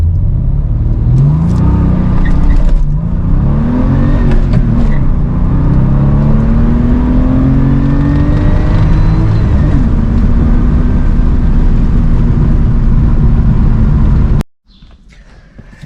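Porsche 911 Carrera Cabriolet (993) accelerating hard from a standstill, a loud engine revving up through several gear changes for about fourteen seconds before cutting off abruptly.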